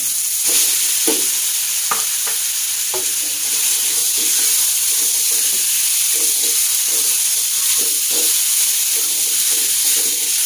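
Chicken pieces sizzling in a frying pan with lemongrass and lime leaves, a steady close hiss and crackle with occasional stirring scrapes, no talking.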